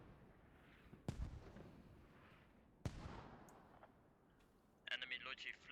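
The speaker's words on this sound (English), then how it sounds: "Oh, now artillery's coming in." Distant artillery fire in a combat video game: two heavy booms land a couple of seconds apart over a quiet, muffled background with faint voices, followed by a brief crackle near the end.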